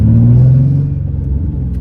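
A Nissan 350Z engine with a fault bounces its revs below 3,000 RPM, a loud close low growl that rises briefly then wavers and sags unevenly.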